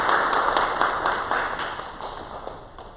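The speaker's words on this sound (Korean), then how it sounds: "우리 환영의 박수." A church congregation claps in welcome for visiting guests, a brief burst of fairly close, steady clapping that slowly tapers off over a few seconds.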